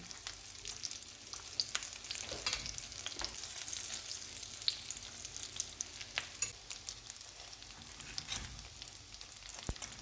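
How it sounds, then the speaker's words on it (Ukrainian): Steady crackling sizzle of tempura sushi rolls frying in hot oil in a pan, with scattered sharper pops throughout. "Викладаємо на розігріту пательню із олією і обсмажуємо до золотистої скоринки з усіх боків."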